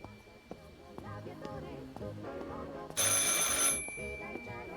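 A telephone in the video game Martha is Dead gives one bright, shrill burst of ringing partway through, loud against a quieter background of tones and sounds.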